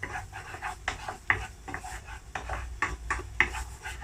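Garlic fries in a pan for a Thai stuffed omelette as a spatula stirs it, giving irregular scrapes and light metallic clinks over a low, steady cooking noise. The sound is close, with no talking.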